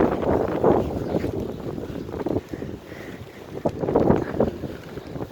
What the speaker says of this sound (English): The wind gust is going up to like 40 miles per hour. It's super windy.